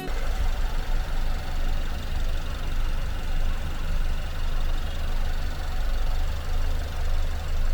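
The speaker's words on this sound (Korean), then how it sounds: "엔진 소리도 좋고 깨끗하네요." A KGM (SsangYong) Beautiful Korando 2WD 1.5 gasoline engine idling with a steady low rumble and a slight knocking pulse, close and fairly loud, with no talking.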